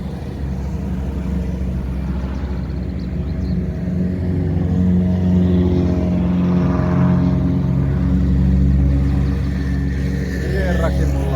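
Ferrari cars cruising Puistokatu during a Vappu cruise event, with loud, continuous low engine rumble and rising revs, close by. Voices talk over the engines.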